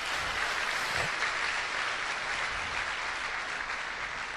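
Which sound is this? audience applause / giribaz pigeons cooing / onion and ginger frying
audience applause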